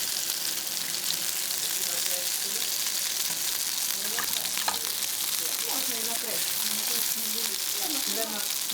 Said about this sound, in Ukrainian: Якщо ви смажите бурники на пательні, їх потрібно обсмажити з обох сторін